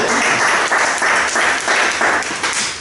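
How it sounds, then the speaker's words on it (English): An audience bursts into steady, dense applause, loud and sustained for a few seconds with no talking over it. "Let's give him a round of applause."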